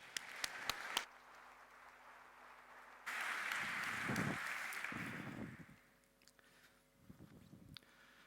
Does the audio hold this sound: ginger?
no